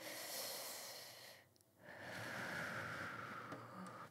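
A deep breath taken during a yoga exercise: a long, airy rush of breath, a brief hush, then another long, steady breath, close and fairly loud with no talking.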